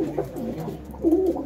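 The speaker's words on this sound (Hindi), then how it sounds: "ये इनके उड़ने वाले कबूतर हैं" Male flying pigeons of a Punjabi breed, kept in a loft in Ludhiana, coo softly in low rolling calls, close by and overlapping, with no talk.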